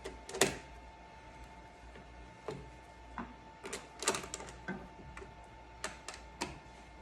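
Hold-down clamps from a Carbide 3D clamp kit being tightened on a Shapeoko CNC machine table, heard as sparse, faint ticks and clicks scattered across the quiet, with a steady low hum underneath.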